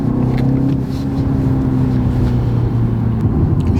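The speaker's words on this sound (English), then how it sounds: "In sport, you get a really lovely burble, and you also have the power there." A 2020 BMW 330e M Sport plug-in hybrid in sport mode gives a steady, loud, low engine burble from inside the car, a sustained droning rumble with no talk.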